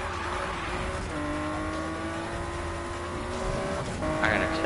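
Race car engine in Need for Speed, tuned for drifting, droning steadily at high revs with rising and falling pitch sweeps as it shifts, loud and continuous, a faint tire squeal near the end.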